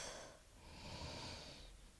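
A slow, deep breath drawn in and let out during an Ashtanga yoga class, soft and airy, close but quiet, heard alone without speech.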